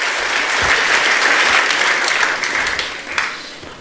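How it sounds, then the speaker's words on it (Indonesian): Church congregation at an Easter worship service breaks into steady applause, a dense wash of clapping filling the room for about four seconds before thinning slightly at the end. "Saudara beri tepuk tangan untuk kebenarannya."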